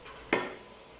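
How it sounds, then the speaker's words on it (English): Spices and garam masala hit a hot pan with a brief, close sizzle and stirring scrape that swells and fades over a fraction of a second, set against a quiet kitchen background. "the spice is frying up very nicely together"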